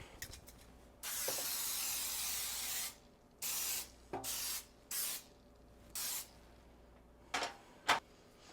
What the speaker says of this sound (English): You're gonna take a 13x9 and we're gonna spray it.